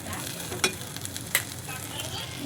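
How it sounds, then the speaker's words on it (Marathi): Sukkad fries in hot oil with a steady, close sizzle, broken by a couple of sharp ticks or pops from stirring. "हे बघा मी आता याला तेलात फ्राय करते, असं याला थोडं तेलामध्ये फ्राय करायचं चांगलं"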